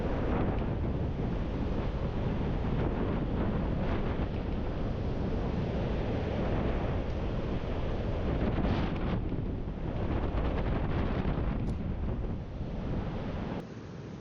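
Strong overnight wind at a forest camp beside a stream, a steady, loud rushing roar that buffets the microphone without letup for the whole stretch, with no voices.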